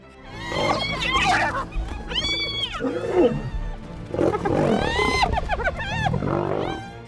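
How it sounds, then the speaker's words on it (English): Lions and hyenas clash in the wild, a trail cam catching loud, continuous snarling roars and rising, whooping animal calls that overlap in bursts for several seconds at close range. "The hyenas were biting at him and making these really scary noises."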